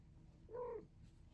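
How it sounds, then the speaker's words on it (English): A cat gives a single short, soft vocal sound, a brief meow-like call, close by in a quiet room. "My cat's right next to me watching me."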